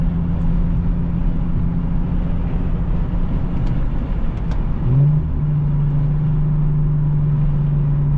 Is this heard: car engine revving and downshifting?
yes